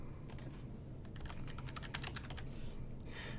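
A password is typed on a computer keyboard during an Ubuntu 18.04 install in VirtualBox, a quick run of light, close clicking keystrokes in small bursts, quiet and with no voice.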